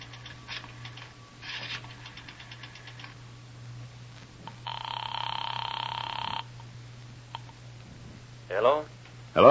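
An old rotary telephone in a radio drama, heard as a nickel drops into a drugstore pay phone, followed by mechanical dial clicks and a steady ringing tone over a low background hum, with a voice at the end.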